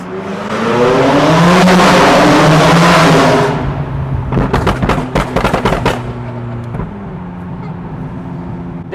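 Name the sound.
supercars driving in a rally on a closed highway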